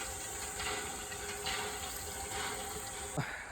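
Water from a borewell near a temple trail pours steadily in a continuous broadband rush, with a brief splash or clunk near the end and no talking.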